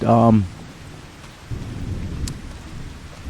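Steady rain in Farming Simulator 25 hisses throughout with a low rumble of thunder rolling in partway, after a brief burst of sound at the start.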